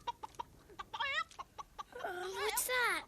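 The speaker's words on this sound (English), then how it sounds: "She wakes the next morning in Oz to find her chicken Bellina alongside her and now able to talk" A hen clucks in the 1985 film Return to Oz, giving short spaced clucks that build into a louder run of drawn-out squawking calls, with some voice in the background.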